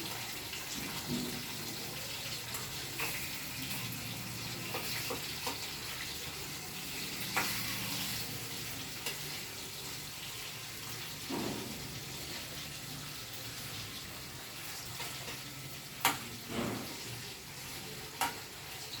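Fish frying in a pan of oil with curry leaves, a steady broad sizzle and crackle running throughout with occasional louder pops and spits, close by and with no voices.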